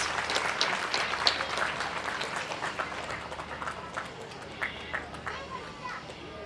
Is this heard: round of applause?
yes